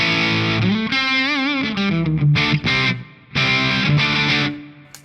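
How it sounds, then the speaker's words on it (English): Distorted electric guitar played through a Victory V1 pedal with a low plate reverb, sustained chords and bent single notes with vibrato, then choppy stabs and ringing chords, loud and close, no voices. "let me engage some reverb, really low, a plate reverb."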